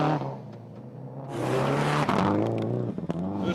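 A rally car in Art Rally on the Gravity Park course, its engine droning loudly and revving higher partway through, steady and close.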